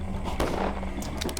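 Gunfire in the video game Pathologic, a few sharp broadband cracks, one early and a quick cluster near the end, over a steady low rumble of game background.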